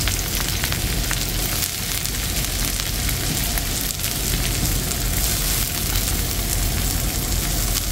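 Onion frying in hot cooking oil gives off a dense, steady sizzle with crackling pops throughout, close and loud, and no voices over it.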